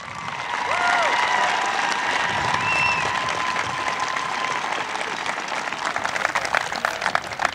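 Sustained applause from a large crowd at a dedication event, steady and loud throughout, with a few scattered cheers and whoops rising over the clapping.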